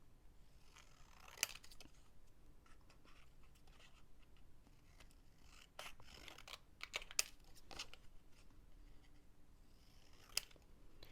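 Scissors trimming a page from an outdated paper planner: faint, close snips and papery rustles at irregular intervals, with a few sharper cuts standing out against a quiet background.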